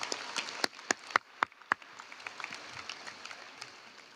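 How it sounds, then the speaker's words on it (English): Graduation audience at a high school ceremony applauding the school district administration, with a few sharp close claps up front standing out over a dense, moderately loud wash of clapping that gradually thins. "Let's give a round of applause for our LISD administration."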